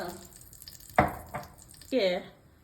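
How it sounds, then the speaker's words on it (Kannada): Mustard seeds spluttering in a pan of hot oil, tempered for a tofu and fenugreek leaf palya. A few sharp crackling pops come up close, with a voice speaking briefly around them. "ಸಾಸಿವೆ ಸ್ವಲ್ಪ ಸಿಡಿಲಿ"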